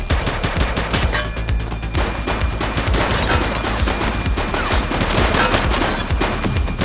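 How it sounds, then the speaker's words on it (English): Sustained rapid gunfire in the police video game The Precinct, a dense, loud volley of overlapping shots and bursts crackling continuously throughout, with no talking. "He's shooting!"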